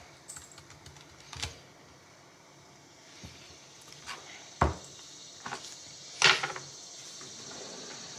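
A knife cuts through a patty pan squash in a few sharp, separate crunching clicks spaced by quiet pauses, close and fairly soft, with no one talking.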